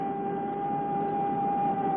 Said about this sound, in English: There is in Honolulu one person whom the sound of the siren does not bother